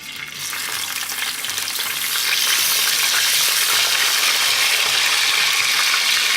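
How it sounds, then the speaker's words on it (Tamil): About ten small onions drop into hot fenugreek oil in a clay pot and set off a loud, steady sizzle that builds and then holds as continuous close frying hiss, with no voices. "இப்போ நான் இதில் ஒரு 10 சின்ன வெங்காயம் போடுறேன்."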